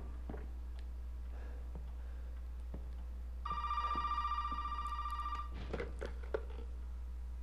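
An old telephone rings in the horror video game Resident Evil 7, a bright electronic trill that repeats for about two seconds over a steady low hum, then falls silent before a few soft clicks.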